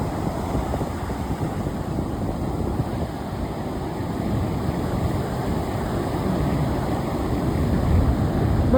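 Sea surf on the South Goa coast rolls in as a continuous roaring wash, steady and fairly loud, building slightly toward the end with no voices.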